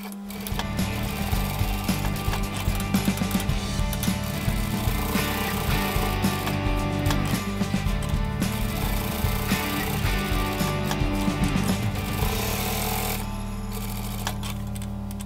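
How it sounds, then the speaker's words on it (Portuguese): A home sewing machine runs a steady seam around the edge of a small patchwork fabric mug rug, whirring continuously at an even pace for about thirteen seconds before easing off, close and alone. "vamos passar uma costura toda a volta, deixando uma abertura"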